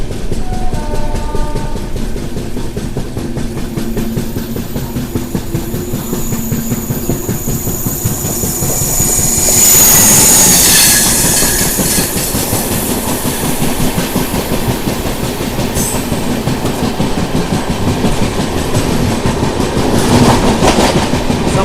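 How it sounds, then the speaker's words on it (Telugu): An AC express train pulls out of Visakhapatnam Junction, wheels setting up a steady clickety-clack under a constant rumbling drone that swells briefly midway, with no voices present. "మన ట్రైన్ వచ్చేసి విశాఖపట్నం జంక్షన్ నుంచి అయితే బయలుదేరిపోయింది"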